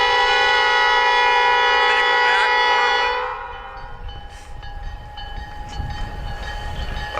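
A lone locomotive clearing snow and ice off railroad crossings in Michigan's Upper Peninsula after a snowstorm sounds its horn in a loud, sustained chord for about three seconds, then its rumble continues more quietly as it passes.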